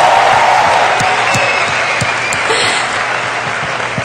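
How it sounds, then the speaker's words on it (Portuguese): An audience at a Diante do Trono worship congress claps steadily in welcome of a speaker, a continuous wash of applause with a few cheers rising above it. "Vamos receber com uma salva de palmas o nosso querido irmão, preletor deste congresso, Zach Neese."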